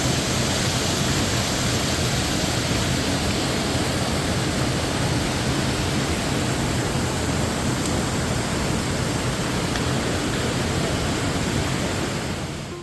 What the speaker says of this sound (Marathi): मग हा छान असा वॉटरफॉल बघायला मिळतो